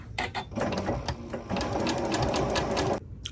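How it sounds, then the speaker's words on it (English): Sewing machine running normal stitches over open lace tablecloth fabric while joining shirt shoulder seams, a steady close whirring hum with brief pauses and restarts near the start, then continuous stitching before stopping. "I'm just doing normal stitches over this very open fabric."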